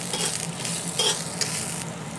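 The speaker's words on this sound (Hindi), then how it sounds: "अब हम इसमें डालेंगे थोड़ी सी हरी मिर्च और अदरक इन सभी चीज़ों को हम थोड़ा देर भूनेंगे" Green chilli and ginger fry in a pan with cumin seeds, giving a steady, close sizzle broken by a few scraping strokes of a stirring spoon, with no voices.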